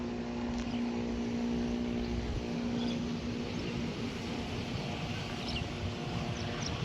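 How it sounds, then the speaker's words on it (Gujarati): An airplane passes over a rooftop as a steady, faint, distant drone with a faint tonal hum. The drone holds evenly across the whole stretch and fades slightly toward the end. "એ જાય વિમાન"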